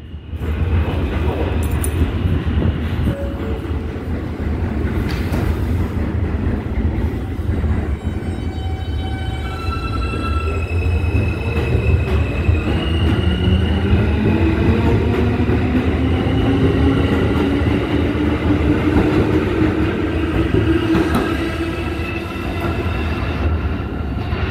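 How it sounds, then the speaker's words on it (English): A Queensbound G subway train in New York City runs loud and close for over twenty seconds, with a constant roar, rattling wheels and rising and falling squeals and whines from the wheels and motors. "Queensbound G train. The next stop is Smith 9."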